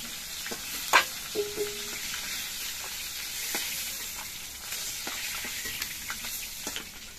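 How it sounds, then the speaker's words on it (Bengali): Pangas fish pieces fry in hot oil, a soft continuous sizzle with a few sharp crackles and light stirring taps near the start, close and steady with no talking. "বাকি মাছের পিসগুলো আমি একইভাবে ভেজে নিচ্ছি"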